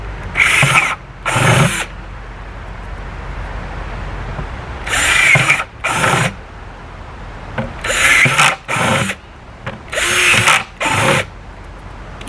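A power drill bores holes into a plastic container garden bucket in four paired bursts, each whirring spin lasting under a second, close and loud with quiet gaps between pairs.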